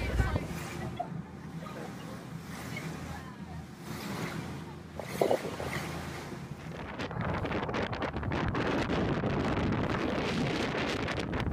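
Strong wind buffets the microphone over the low rumble of a boat in Italy, growing rougher and louder toward the end, with faint voices underneath.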